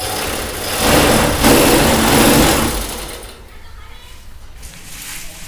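A domestic sewing machine driven by a newly fitted electric motor whirs steadily for about three seconds, then the run stops and only a quieter background hum is left.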